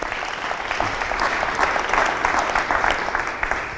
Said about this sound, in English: Round of applause. Thank you very much